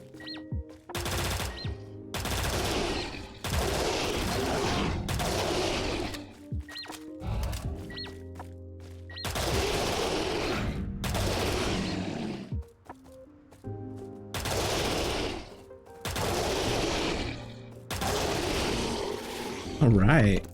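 Long bursts of a MAC-10 submachine gun firing 9mm rounds in STALCRAFT, rapid and loud, separated by short pauses and reload clicks, repeated across the whole stretch.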